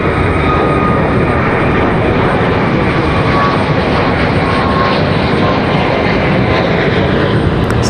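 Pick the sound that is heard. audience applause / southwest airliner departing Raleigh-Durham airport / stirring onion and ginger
southwest airliner departing Raleigh-Durham airport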